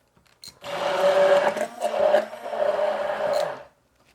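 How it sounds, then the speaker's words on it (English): A stick blender whirs through raw eggs in three loud bursts, its motor buzzing and dipping in pitch as the blade churns the liquid, with short pauses between each run. "Now I'll take my stick blender and just blend these eggs."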